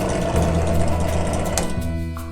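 Harbor Freight drill press switched on and running, a steady motor hum with mechanical whine, close and fairly loud, with a slight change in tone near the end.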